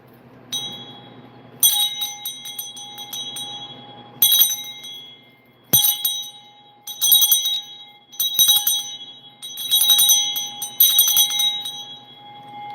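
Close, loud ringing of a handheld bell, about nine clangs or short bursts of shaking spaced unevenly, each with a bright metallic ring that decays between strikes, with no talking.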